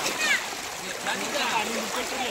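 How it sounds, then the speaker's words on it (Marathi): Strong river current rushing near a weir, a steady broadband wash of flowing water with splashing, while people talk over it. "बघा केवढं जोरात वाहतोय"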